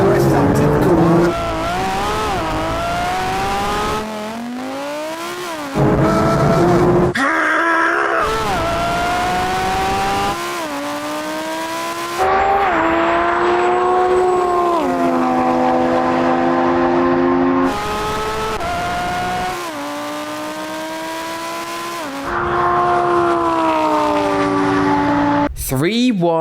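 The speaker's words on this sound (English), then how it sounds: "the Lambo's raw V10 grunt and sheer aggression proved far too much" A Lamborghini Huracan V10 and a Porsche 911 GT3 RS race each other, loud engines climbing through the gears again and again, with gear changes and sustained high revs from close by.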